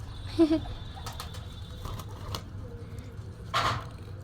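Pigeon cooing outdoors, a few soft low coos heard at a distance, alongside faint bird sounds and scattered clicks over a quiet background.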